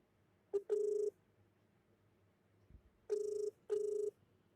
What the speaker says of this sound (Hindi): मैं एक मोबाइल फ़ोन से इस पर कॉल कर रहा हूँ।